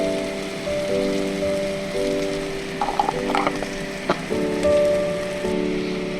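Crab fries in a pan with ground coriander and whole garam masala, a steady bright sizzle with scattered crackles and pops that continues under a faint background tone.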